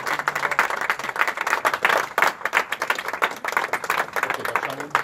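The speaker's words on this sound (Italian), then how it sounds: "Vi chiedo un applauso per loro" Audience applause at a Miralago event for the relaunch of the area, a dense, steady burst of many hands clapping throughout, fairly close and filling the whole stretch.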